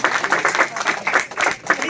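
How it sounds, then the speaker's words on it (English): An audience at an entrepreneurship motivational session claps briefly and loudly, a dense patter of hands close by with no voices over it. "Let's clap for her actually."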